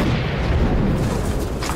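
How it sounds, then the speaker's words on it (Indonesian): A landmine explodes right behind a team in a conflict zone, a loud, close, deep rumbling blast that fills the whole short moment. "Tiba-tiba, sebuah ranjau meledak persis di belakang tim."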